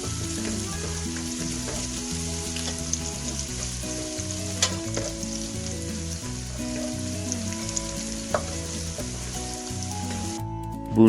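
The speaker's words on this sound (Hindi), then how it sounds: "2 टेबलस्पून बनते हैं अदरक और लहसुन और 2 से 3 मिनट तक इनको भुनाई कर लेंगे" Ginger and garlic fry in a pan, a steady close sizzle with occasional stirring clinks, continuous and undisturbed by any voice.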